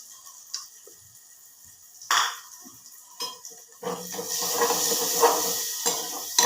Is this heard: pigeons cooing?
no